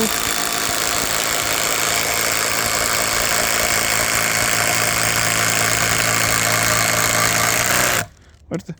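20-volt cordless screwdriver driving a 55-centimetre self-tapping screw, a steady loud motor whine with grinding strain held for about eight seconds, then cutting off abruptly, followed by a couple of faint knocks.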